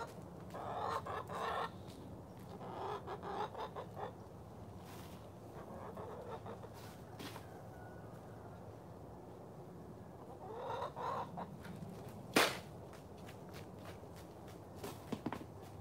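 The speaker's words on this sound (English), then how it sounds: "Chickens going crazy." Chickens cluck and squawk in several bursts at close range, with some scratching or footstep noises and one sharp louder squawk, and no talking over them.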